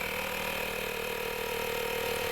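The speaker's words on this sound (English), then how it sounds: "press the inflator switch to turn on the compressor." The small electric compressor of an Acura tire sealant and inflator kit runs nonstop at close range, a dense buzzing drone with a fast mechanical chatter and a constant level, and no talking.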